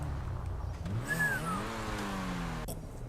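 A car in the GTA video game drives along and slows to park, its steady engine rumble rising in a short rev partway through. The engine stays continuous and fairly close, and nobody speaks.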